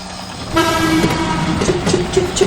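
A toy train pulls in with a sustained horn-like tone and rhythmic clicking, close and fairly loud, arriving at a toy garage playset, with no talking.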